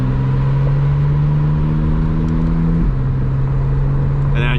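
A McLaren Artura engine drones loud and steady from close by, its pitch held through a sustained rev before dropping slightly midway, with a faint voice beneath.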